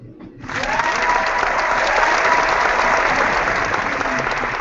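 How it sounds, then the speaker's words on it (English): A crowd bursts into a sustained, dense round of applause that starts abruptly and holds at a loud, even level throughout, with faint voices mixed into the clapping. "we can now give it a rapturous round of applause"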